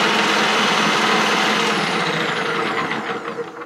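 A 9-in-1 mixie attachment beats eggs with a loud, steady, high-pitched motor whine and dense whirring, running without a break and easing slightly toward the end.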